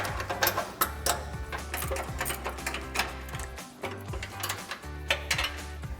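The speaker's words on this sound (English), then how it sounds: "18mm ratcheting wrench on our bolt side and a 21mm ratcheting wrench on our nut side to work these loose" Ratcheting wrenches, an 18mm and a 21mm, work loose the suspension bolts on a 2014-2020 Ford F-150 during a coil-over lift kit install, making rapid, repeated mechanical clicks over a steady low hum.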